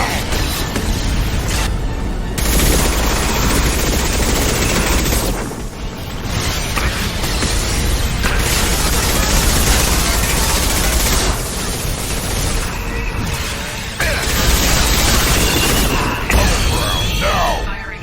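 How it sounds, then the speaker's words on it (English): Anti-ship batteries in Mass Effect 2 firing at a Collector vessel, loud continuous booming and mechanical rattling volleys in bursts with brief lulls, mixed with clattering battle noise. "Firing anti-ship batteries at collector vessel"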